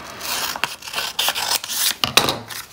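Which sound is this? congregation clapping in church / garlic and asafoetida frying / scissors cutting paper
scissors cutting paper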